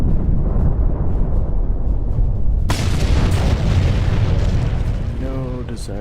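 Explosion in the video game Star Trek Online: a sudden loud blast breaks over a steady rumbling background partway through, leaving a noisy roar that fades slightly, with a brief voice near the end.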